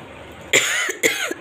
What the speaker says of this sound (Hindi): अब मुझे खांसी आने लग गई है